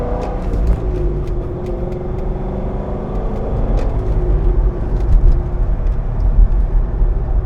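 Steady engine rumble and road noise from a 2007 Chevrolet Corvette Z06 on the road with about 45,956 miles, a continuous close drone with a slight swell in the middle and no talking.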